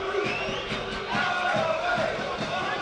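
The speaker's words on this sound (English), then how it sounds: "Roundly booed again for Cleary." A football stadium crowd at a Dundalk versus Shamrock Rovers FAI Cup match roundly boos player Cleary, a sustained, loud wash of jeering voices from the stands with no individual words standing out.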